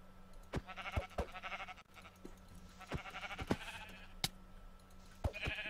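Sheep bleat a few times, faint and distant, mixed with sharp clicks and knocks in a Minecraft game. No talk is heard.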